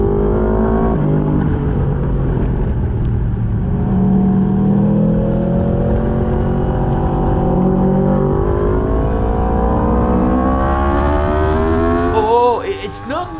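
A racing motorcycle screams around the track during a race, its engine holding a loud, close, sustained howl with rising and falling gear-shift tones, ending in a sharp burst of changing pitch.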